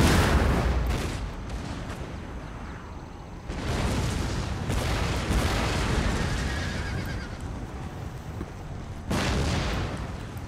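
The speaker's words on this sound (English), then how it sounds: "right now it's just opening fire" Empire: Total War battle with massed musket volleys and artillery booming in broad, rumbling waves, several heavy bursts spread across a continuous roar of battlefield noise, with horses whinnying faintly among it.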